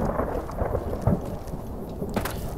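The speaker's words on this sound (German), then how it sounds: "Hauptsache immer mit diesem Gewitter im Hintergrund" Thunderstorm in the game Fallout New Vegas: a steady wash of heavy rain with low, rolling thunder rumbling throughout, a brief louder crack near the end, no voices.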